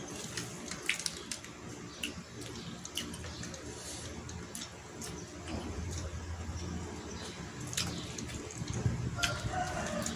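Chickens cluck and call faintly around an outdoor roadside stall in Kalasin, Thailand, with sporadic short sounds over a low, steady background of ambient noise.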